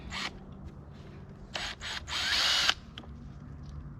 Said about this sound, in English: I'm gonna see if I can probably back that screw